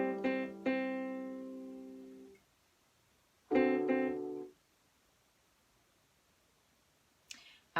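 Piano playing a beginner sheet-music exercise line, a couple of struck notes and chords ringing and decaying, then a pause and another sustained chord, played close and moderately soft with a small click at the end.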